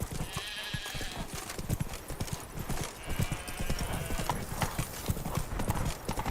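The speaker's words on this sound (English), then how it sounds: "Not even a draft horse will talk down south." Steady clip-clop of horse hooves on hard ground in The Witcher 3: Blood and Wine, a brisk repeating rhythm close by, with faint ambient noise and a brief whinny-like sound.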